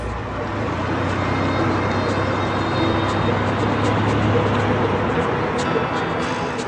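A car pulls away and drives off on a roadside, a steady engine and road rumble that holds fairly loud and near, with no clear speech.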